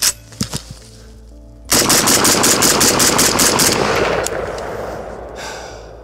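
AK-103 rifle with a muzzle brake firing a fast, loud burst of about a dozen close shots that quickly empty the magazine, followed by a fading echo. A few clicks of handling come before the burst.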